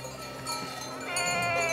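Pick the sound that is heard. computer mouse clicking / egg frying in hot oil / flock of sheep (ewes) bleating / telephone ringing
flock of sheep (ewes) bleating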